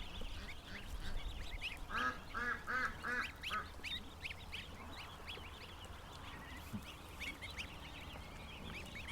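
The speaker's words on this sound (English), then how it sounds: "these two little goslings here we're having like some kind of brawl" Ducklings and goslings squabbling in a brooder: a quick run of shrill peeping calls, then scattered chirps and rustling over a constant low background hum, fairly faint, no speech.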